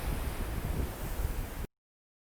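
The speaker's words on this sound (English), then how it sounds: "this amazingly blue water that's crashing on the rocks." Blue ocean water crashes onto coastal rocks, a continuous loud wash of surf mixed with wind noise that cuts off abruptly after about a second and a half.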